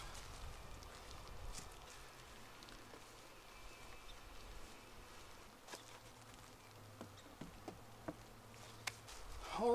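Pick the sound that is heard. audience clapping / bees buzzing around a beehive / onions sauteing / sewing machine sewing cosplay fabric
bees buzzing around a beehive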